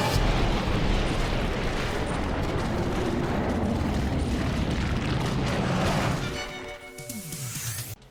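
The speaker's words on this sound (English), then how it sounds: "and then an explosion of cake." A cartoon explosion of cake in the KND episode C.A.K.E.D. erupts as a long roaring, rumbling blast that fills several seconds, then cuts away to a quieter scene with lighter sounds.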